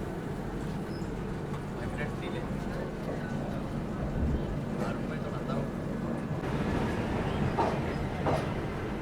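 The Tamil Nadu Express rumbles along after pulling out of Nagpur Junction, a steady rolling drone of wheels and carriage noise heard from inside the train while people talk.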